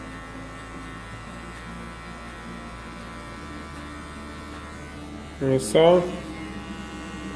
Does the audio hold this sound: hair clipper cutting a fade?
yes